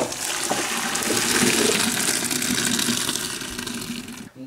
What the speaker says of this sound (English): Now we have to strain the noodles.